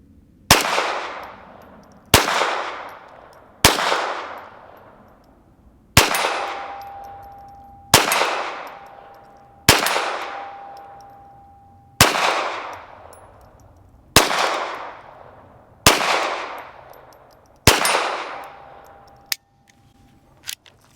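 Taurus TX22 pistol firing a magazine of sharp single shots, about ten cracks spaced one to two seconds apart, each with a ringing decay, loud and close with no talking.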